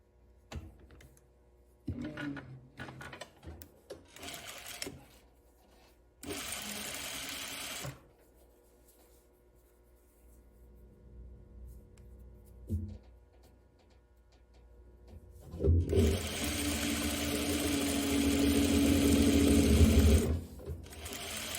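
A domestic sewing machine stitches fabric around a curve for a tie top, running in short separate bursts early on and then a longer, louder continuous run near the end, with quiet gaps between.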